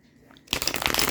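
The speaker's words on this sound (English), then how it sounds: "So we're just going to shuffle. Hopefully no other cards jump out at us." A deck of tarot cards is shuffled close by, a quiet pause giving way to a dense, crisp riffling burst that continues to the end.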